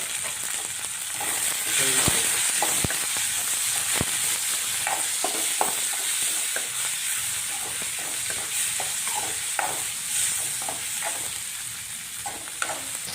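Curry leaves and green chillies fry in a pan with tomato for a fenugreek chicken gravy, a loud constant sizzle punctuated by sharp pops and spatters, with stirring scrapes close by.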